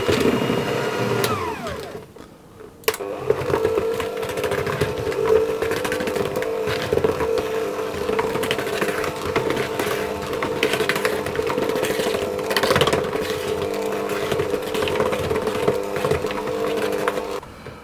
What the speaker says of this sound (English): I'm simply going to mix that on a low speed until it begins to become combined